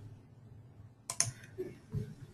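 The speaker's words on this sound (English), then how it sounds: "if I press down the control button from the keyboard and hold down the wheel mouse button" A few computer keyboard key presses, one sharp click followed by a couple of softer taps, close and fairly quiet over a low room hum during a structural analysis software session.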